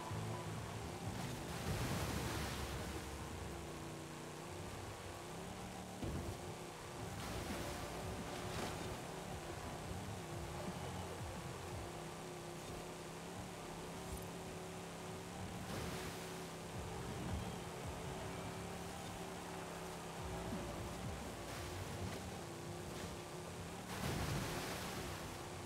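A car in Forza Horizon 5, run in a 450 hp spec series with a Pontiac, ploughs through water in fourth gear. A steady engine drone sits under a continuous rushing splash, quiet and unbroken, with no voices.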